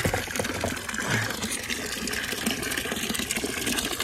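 A Leupold VX-3i LRP 4.5-14x50 rifle scope, caps off and mounted on a rifle, is plunged into a water-filled fish tank, giving a continuous close sloshing and gushing of water throughout.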